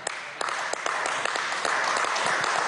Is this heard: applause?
yes